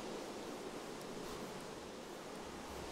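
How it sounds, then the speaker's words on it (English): Steady rain falls in the modded Minecraft pack FTB, an even, dense hiss that holds at the same level throughout with no voices over it. "It is now raining."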